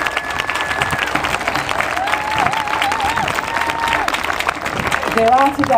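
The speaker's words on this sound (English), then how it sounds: "give Julie Boddy a wonderful round of applause" An audience at a school centenary presentation applauds and cheers, a dense, steady roar of clapping that carries on throughout while a voice talks over it.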